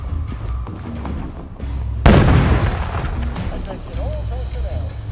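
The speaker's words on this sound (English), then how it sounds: "They're bombing us again!" A heavy bombing explosion erupts suddenly partway through, a loud booming blast with a long rumbling tail, in the video game We Happy Few, with raised voices shouting over it.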